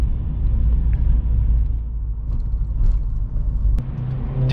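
Inside a Mazda RX8 on a night drive from Brooklyn to Queens, the engine makes a steady low rumble as the driver downshifts, with the cabin drone rising and falling slightly.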